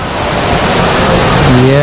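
The tall indoor waterfall at Jewel Singapore pours as a loud, dense, steady rush of falling water, with a faint tonal hum creeping in near the end.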